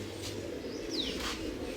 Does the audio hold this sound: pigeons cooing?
yes